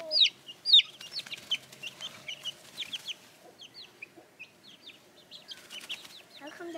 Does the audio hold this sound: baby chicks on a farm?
yes